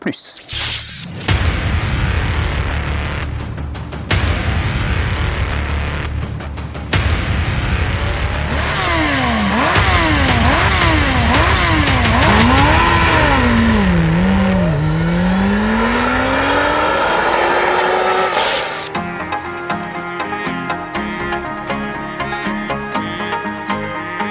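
A Kawasaki H2 SX SE+ motorcycle engine revs and rises through the gears, swooping up and down in pitch, loud and close, with a voice talking over it.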